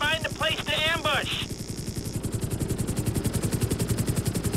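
A helicopter in GTA 5 beats with a fast, steady rotor thump that continues throughout, close and loud, with a person talking over the opening second.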